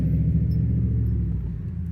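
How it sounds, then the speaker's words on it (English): Low rumbling drone of a FedEx delivery truck rolling past on a breezy residential street, moderately distant and steady, with no voices. "It's a FedEx truck."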